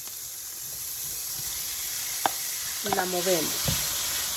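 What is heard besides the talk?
meat sizzling as it fries with onion and garlic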